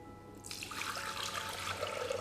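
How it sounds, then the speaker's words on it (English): Water poured from a jug while baking butter cookies, a faint hissing splash that starts suddenly and runs on steadily as it spills out. "Oops, the water fell out."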